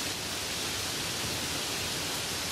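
Steady, even rain hiss with no distinct drops, soft and constant in the background throughout, without any voices.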